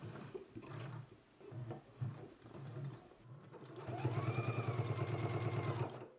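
A sewing machine stitches a sleeve band in short bursts, then runs in a longer steady rhythmic whir of fast needle strokes, close and moderately loud.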